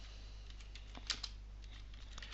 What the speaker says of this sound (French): je valide avec la touche entrée de mon clavier